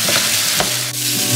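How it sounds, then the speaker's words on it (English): Vegetables char in a hot pan, a loud, close, continuous sizzle broken by a quick stirring scrape partway through the brief moment. "So I've been stirring these every couple of minutes."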